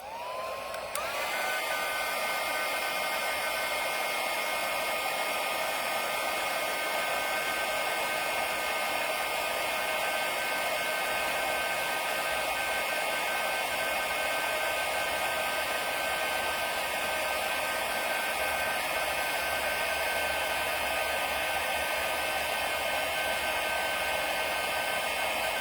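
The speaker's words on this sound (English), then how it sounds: "And now we go ahead and emboss. It's gonna get loud," A heat gun melts embossing powder on a stamped strawberry card, blowing a steady, loud, airy roar with a high whine that runs unbroken for the whole stretch, with no voices over it.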